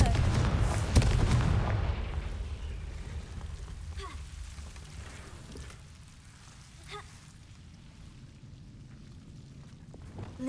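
A Confringo fire-spell explosion in Hogwarts Legacy, a heavy booming blast with crackling debris that fades into a lingering low rumble, followed by a couple of faint sharp pops.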